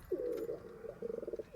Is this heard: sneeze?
no